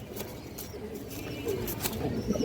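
Pigeons cooing softly in a loft where a breeding pair is kept, low throaty coos repeating under a steady background hum, moderately close and fairly quiet.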